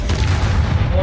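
A Confringo fire spell blasts in Hogwarts Legacy as a dense, loud rumbling roar of explosive noise filling the whole moment, with a voice mixed in.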